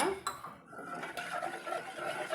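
A spoon scrapes and clinks against a metal vessel while mixing flour batter with water, with a few sharp taps near the start and steady stirring after.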